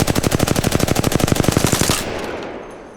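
Automatic gunfire in the video game Apex Legends: one rapid, sustained burst of evenly spaced shots lasting about two seconds, loud and close, then an echoing tail fading out.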